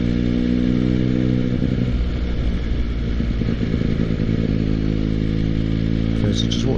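A motorcycle engine hums steadily and loudly as the rider eases off and the speed runs down, then picks up with a little power to pull away, the harmonic drone continuous throughout.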